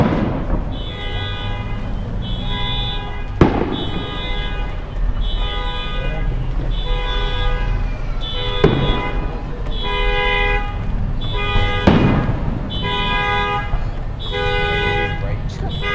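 A car alarm set off by Independence Day fireworks cycles through repeating electronic tones while a few sharp firework bangs pop in the distance, with faint voices in the background.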